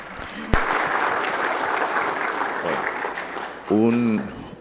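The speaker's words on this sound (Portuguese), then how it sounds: "Uma grande salva de palmas para Harvey Allen." Steady applause from a keynote audience at a conference fills most of the stretch, a dense even wash of clapping that gives way to a speaking voice near the end.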